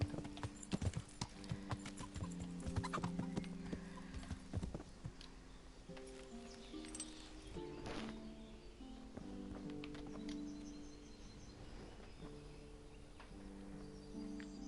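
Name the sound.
horse hooves and neighing in video game Kingdom Come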